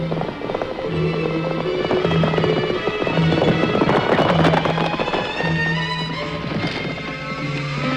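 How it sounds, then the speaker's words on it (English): Hooves of riding horses clip-clop in a western film, a fast busy patter of hoofbeats at a steady gallop under a low tonal score, moderately loud throughout. "Colonel Mackenzie and Corporal Dixon rode against a deadline."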